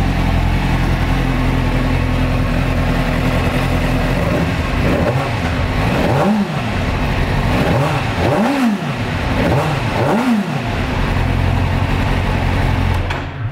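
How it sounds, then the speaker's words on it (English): A 2003 Suzuki GSX-R600 sport bike engine running close up, a steady high idle broken by several quick throttle blips that rise and fall in pitch, then settling back to idle. "Bike does sound excellent."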